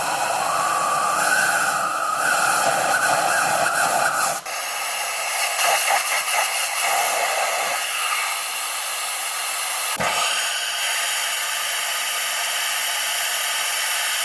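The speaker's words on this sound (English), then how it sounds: "Okay, blow the holes out again." Compressed air blasting out the bolt holes on a 2003 Toyota Corolla engine during valve cover gasket work, a loud, close, continuous airy hiss that shifts in tone as the nozzle moves, with a brief break and sharp pop partway through.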